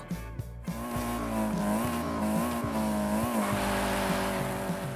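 A tiny Peel microcar drives in Forza Horizon 5, its small engine revving steadily and shifting pitch as it accelerates, with tires squealing and skidding, loud and close with no talk.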